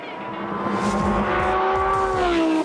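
A Lamborghini Huracan Sterrato off-road supercar drives hard in the desert, its engine loud and close as it revs and climbs in pitch over a couple of seconds.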